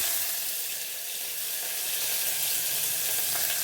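Onions fry in hot oil for prawn biryani, a steady bright sizzle that stays close and even throughout with no voices.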